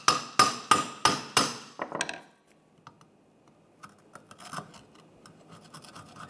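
A hammer scrapes and knocks along the sealing surface of a 2010-2016 Cadillac SRX front catalytic converter, starting with five sharp, evenly spaced strikes up close and then settling into fainter, irregular scraping and light taps.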